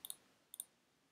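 Two quick double clicks of a computer mouse, crisp and close, separated by a brief pause in an otherwise quiet room.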